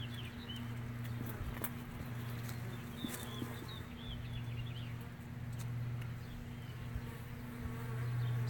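A swarm of honeybees high in a tree gives off a dense, continuous buzz with individual bees whizzing close by now and then, heard outdoors without talk.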